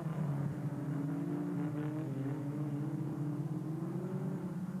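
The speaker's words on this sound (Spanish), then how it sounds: "Tratamos de escuchar un poco los motores" Race car engines on a dirt circuit, a steady droning roar with shifting pitch heard from some distance, continuous through the clip with no talk.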